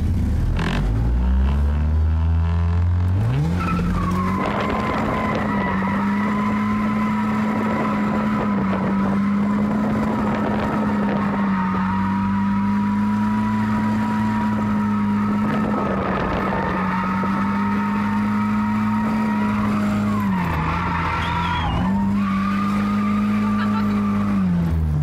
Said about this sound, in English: I'm gonna just do some donuts real quick to get warmed up.